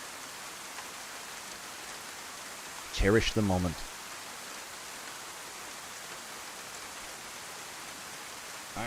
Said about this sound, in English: You guys are down with the cozy rain vibes.